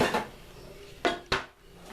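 Metal pots, pans and lids clatter in a home kitchen during pot roast cooking, a few sharp clanks near the start and two louder bangs close together near the end, with no talking.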